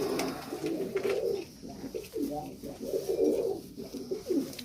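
Pigeons coo in repeated soft, throaty phrases at a large fancy pigeon farm in Faisalabad, several overlapping calls close by, rising and falling in a steady rhythm.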